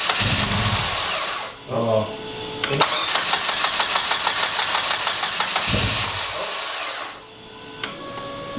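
A car engine with a LOLNEON engine harness cranks in short whirring bursts, then catches and runs roughly with a rapid rattling idle before cutting out and cranking again, with a brief exclamation.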